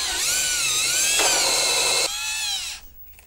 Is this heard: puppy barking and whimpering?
no